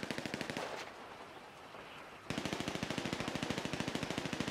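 Rapid automatic gunfire in GTA 5 role-play, with sharp evenly spaced shots at the start and a near-silent gap of more than a second in the middle. A second long sustained burst follows, loud and rhythmic to the end.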